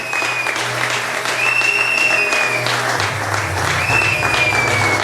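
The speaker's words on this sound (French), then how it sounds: "est-ce qu'on peut bien acclamer?" Wedding guests at a religious marriage ceremony applaud and cheer the groom, a dense, steady wash of clapping lasting throughout with a few higher cheering tones riding above it.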